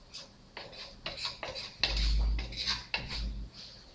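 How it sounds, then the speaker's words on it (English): A utensil scrapes and rubs against a pan as cabbage is stirred and pulled toward the middle, giving several short, close scraping strokes in an irregular rhythm with no speech. "take our stir, pull it all towards the middle"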